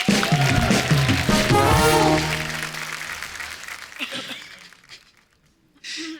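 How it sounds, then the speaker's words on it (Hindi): Loud studio-audience applause on a TV comedy show set, a dense burst of clapping and cheering over musical tones that fades away after about two seconds, then a brief quiet and a short noisy burst at the end. "हमारे सारे सुपरस्टार लोग के लिए जोरदार ताली"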